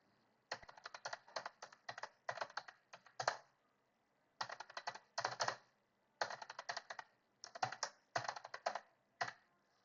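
Code is typed on a computer keyboard in fast, close bursts of crisp key clicks, separated by short pauses, with no voices.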